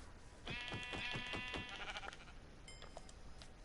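Sheep in a video game bleat in a quick run of several wavering calls, loud and close, followed by a thinner, fainter bleat near the end.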